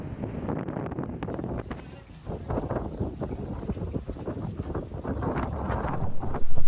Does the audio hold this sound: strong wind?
yes